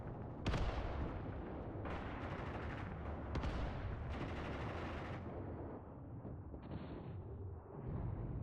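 Machine gun fire in the WW2 war game Mius Front, loud sustained bursts of automatic gunfire with sharp reports and dense battle noise throughout, no talk over it.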